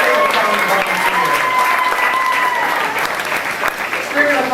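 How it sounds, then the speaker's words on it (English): Visitors on the special effects stage of the Disney-MGM Studios backlot tour clap for volunteers in a sustained, full round of applause, with a voice talking over the clapping. "Let's have a big round of applause for our great volunteers."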